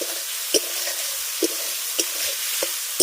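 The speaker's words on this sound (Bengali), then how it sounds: "ভেজে রাখা আলুটা দিয়ে ভালো করে মশলার সঙ্গে আলুটাকে কষিয়ে নেব" Fried potatoes are stir-fried with spice masala in a pan for a banana-flower dish. A soft, steady sizzle runs throughout, broken by five sharp spatula scrapes and knocks spaced about half a second to a second apart.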